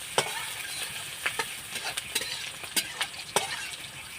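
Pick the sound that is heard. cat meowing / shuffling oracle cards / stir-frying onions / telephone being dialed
stir-frying onions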